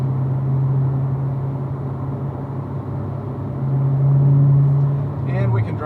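A car engine cruises at freeway speed in seventh gear at low revs, a steady low hum with road rumble that swells briefly, heard from inside the car, with a voice talking near the end.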